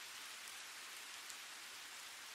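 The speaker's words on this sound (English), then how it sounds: "take a few more slow breaths as you tune in to the sound of the rain beginning to fill your eardrums" Steady rain falling and pattering on surfaces, a constant even hiss that fills the whole stretch with no other sounds.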